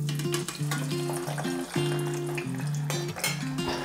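Potato pieces dropped into refined oil heated to about 160-180 degrees sizzle and crackle steadily and loudly up close, with a tonal hum running underneath and no talking.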